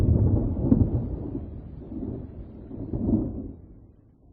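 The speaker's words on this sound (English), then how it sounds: "Behind them, as they galloped, was a rising cloud and a deep rumble of thunder and flashes of lightning." Deep thunder rolls on for several seconds, a low rumble that swells, fades and surges again before dying away, with no voices present.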